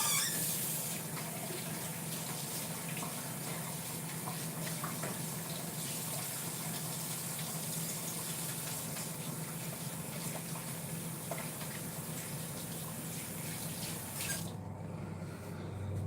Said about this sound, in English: Let me wash these bacon hands.